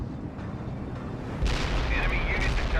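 Heavy artillery barrage in the real-time strategy game World in Conflict, a continuous rumbling roar of distant shelling that swells louder midway with booming impacts and crackling debris.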